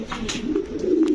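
Large farm pigeons coo in a low, rolling, continuous murmur close by, with a few faint chirps and soft rustles mixed in.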